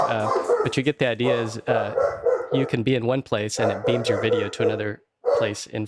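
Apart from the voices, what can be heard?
dog barking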